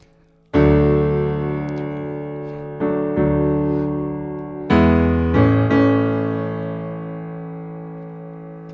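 Several ringing guitar chords strummed one after another, each left to sustain and slowly fade, played alone with a slightly distorted tone.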